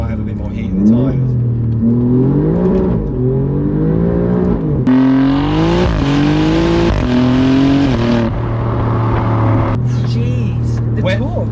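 An Alfa Romeo Giulia GTA M accelerating hard in first gear, its engine revving up in rising pulls and then surging loud and high toward the redline, heard from inside the car with voices talking along with it.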